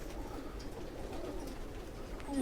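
Pigeons coo softly amid a low background hum, faint throaty calls blending into steady ambient noise.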